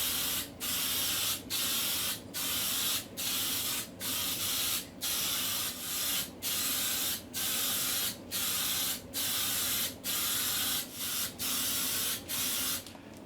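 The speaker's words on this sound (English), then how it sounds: "I'll just spray a little bit so you can see how it's coming out" Clear lacquer sprayed from a can onto the case of a NordMende Elektra 58 radio under restoration, about sixteen short hissing bursts in a steady rhythm with brief pauses between, close and alone.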